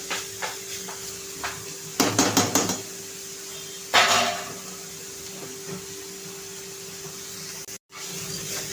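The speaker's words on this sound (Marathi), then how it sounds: "हाय फ्लेमवरतीच आपण ह्या भाज्या परतायच्या आहेत।" Vegetables for Manchow soup are tossed in a hot pan on high flame, with a few quick metal scrapes and clanks over a constant low sizzle.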